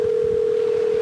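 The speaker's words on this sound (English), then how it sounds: "Phone's ringing." A single steady telephone tone hums at constant pitch and loudness on a call, heard alone with faint low background noise.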